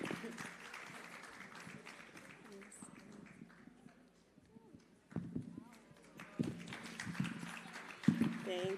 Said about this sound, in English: Let's keep clapping till they take a seat.